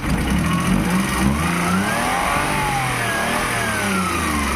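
Car engine revved repeatedly while oil blow-by is checked at the filler opening, a loud nearby mid-pitched roar that rises and falls in successive revs over a running idle.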